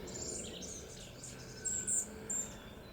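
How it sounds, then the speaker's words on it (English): A hummingbird and a wren sing among pine trees in a garden: faint, high, scattered chirps and tweets over quiet outdoor ambience, with a few brighter calls near the end. "I hear the hummingbird singing now, and the wren."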